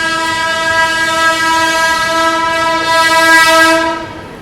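The Vaishali Express passes at speed on Indian railway tracks, its horn sounding loud and sustained for about four seconds over the rumble and clatter of the wagons before cutting off.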